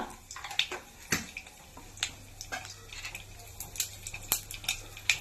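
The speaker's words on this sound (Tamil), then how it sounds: "சோம்பு போட்டு நல்லா பொரிய விடணுங்க" Fennel seeds splutter and crackle in hot oil for a mutton liver and lung gravy, giving a steady scatter of sharp, close pops over a faint sizzle.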